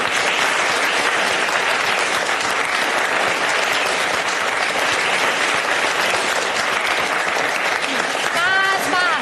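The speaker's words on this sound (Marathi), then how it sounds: "आता आपण चिन्मय काळेचं आपल्या वर्गात जोरदार टाळ्या वाजवून स्वागत करूया." Classroom of students applauding loudly to welcome a new pupil, a dense, steady wash of clapping filling the whole span, with a brief voice near the end.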